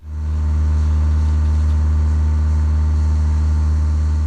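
Cessna propeller engine in a flight simulator at full 100% throttle: a loud, steady drone with a strong low hum, holding constant without change for several seconds.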